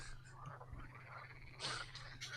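Frogs croaking as an effect in a tabletop game session, a low, steady chorus under a faint background hum with a few brighter bursts near the end.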